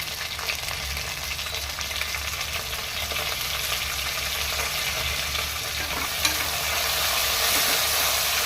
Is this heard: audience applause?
no